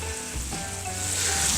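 Frying sizzle as turmeric and red pepper hit softened ingredients in a pan for Gilan-style sweet ghatogh, a steady, close hiss with faint stirring and no talk.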